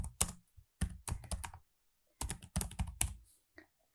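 Computer keyboard keys are typed in close, crisp bursts of rapid clicks for a commit message, with short silent pauses between the groups of keystrokes.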